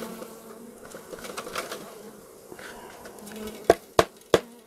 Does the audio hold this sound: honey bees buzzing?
yes